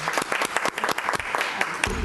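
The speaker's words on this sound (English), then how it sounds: "I applaud you again." Clapping at a school district board meeting, a small group of hands making distinct, fairly sparse claps that ring out close in the room.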